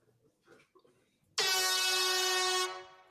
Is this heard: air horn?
yes